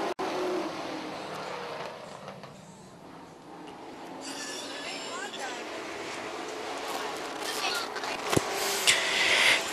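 Race cars roar around a Charlotte oval just after the green flag, engines whining and rising past in waves, moderately distant, with an announcer talking over the field.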